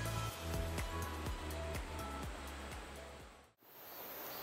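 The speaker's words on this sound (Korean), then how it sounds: "아, 물소리 너무 듣기 좋죠?" Water in a mountain valley stream rushes in a continuous broadband wash, with a repeated low droning pulse beneath it, then a brief cut before the flow resumes, and no voices.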